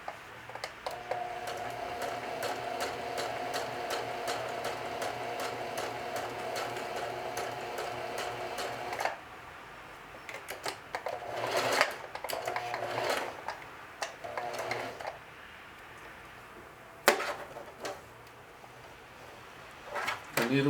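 Sewing machine stitching a denim watch pocket: a steady, close needle rattle for about nine seconds, then short bursts and clicks as the fabric is repositioned, with occasional talk.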